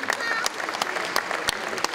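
An audience at a rugby league tribute applauds a partner, with scattered close claps over a murmur of crowd voices and talk, fairly brief and moderate in level.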